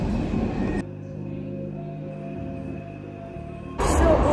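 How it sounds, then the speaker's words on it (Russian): Train pulling into a station in London, a steady rumbling drone of the carriage with low engine hum and faint rail noise throughout, louder bursts of clatter at the start and end. "мы уже подъезжаем, и сейчас мне нужно будет перейти с этого типа поезда на метро"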